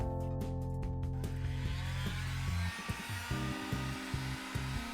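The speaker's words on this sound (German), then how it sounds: "Ich benutze jetzt hier eine Heißluftpistole, aber ein gewöhnlicher Haartrockner reicht auch aus, um das Gerät ausreichend zu erwärmen." A heat gun warms an iPhone 7 to soften its adhesive, a steady close blowing whir that drops to a lower, pulsing hum partway through.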